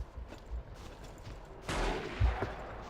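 Gunfire in the Battlefield game's Yugoslavia setting, scattered muffled shots early, then a louder burst of firing with heavy low thumps, at middle distance and with no talking.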